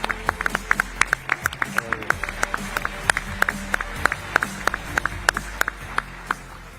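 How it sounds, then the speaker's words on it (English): A sparse crowd gives scattered applause for designer Joshua Dixon at a forum's opening reception and dinner, distinct separate hand claps ringing over a low room hum and faint background chatter. "Let's give him a round of applause."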